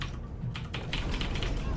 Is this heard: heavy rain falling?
no